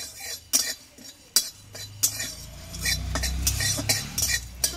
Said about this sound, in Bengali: এইটা আমি একটু হালকাভাবে ভেজে নেব।